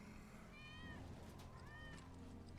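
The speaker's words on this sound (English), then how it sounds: "That's Wedge's cat." Cat meowing in the video game Final Fantasy 7 Remake: two or three drawn-out, wavering meows in quick succession, faint and somewhat distant over a steady low game ambience.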